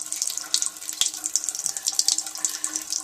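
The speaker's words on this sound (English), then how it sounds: "But we're not getting a lot of water out of this side of the pipe. That's all the way on." Water runs weakly from a tap on a pipe, fully opened yet giving only a thin, splashing trickle with soft irregular spatters and a few sharper drips, close and steady.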